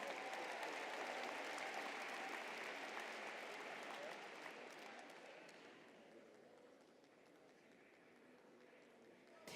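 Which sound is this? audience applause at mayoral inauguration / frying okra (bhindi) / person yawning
audience applause at mayoral inauguration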